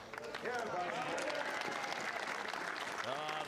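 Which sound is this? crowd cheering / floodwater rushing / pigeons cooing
crowd cheering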